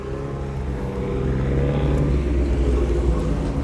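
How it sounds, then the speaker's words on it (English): American cars, including Camaros, roll into a car meet with a low, steady engine rumble that swells slightly as they approach, heard from nearby outdoors without talk. "We got some American cars rolling in."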